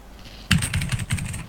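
Computer keyboard typing at a flight-simulator desk setup, a quick burst of several clacking keystrokes in an uneven rhythm, close and fairly loud, with no talking.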